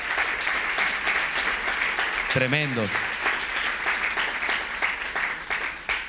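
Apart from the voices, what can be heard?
congregation applause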